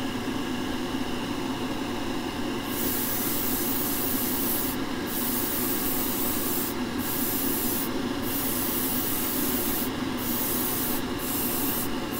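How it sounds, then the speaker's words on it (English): Steady hissing of a spray can spraying chrome paint on a model kit, continuous and close, with brief pauses as the nozzle is released and pressed again. "Spray can chrome."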